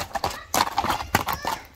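Hooves of a ridden horse clip-clop in a quick, uneven rhythm close by, with sharp thuds, faint background voices and a brief whinny-like sound.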